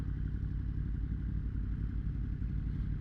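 A 2023 Yamaha MT-10 motorcycle with its AIS deleted rumbles with a low, even engine pulse, faint and steady throughout, with no voices.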